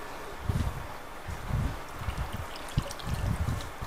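Water is poured by hand into a lucky bamboo pot, a soft close trickle with irregular low splashing bursts and gurgles.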